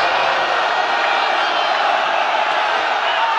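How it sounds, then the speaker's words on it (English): Crowd roaring at a sepak takraw final between Malaysia and Thailand, a dense, steady wash of cheering that stays loud and unbroken throughout, with no single voice standing out. "The crowd goes absolutely wild."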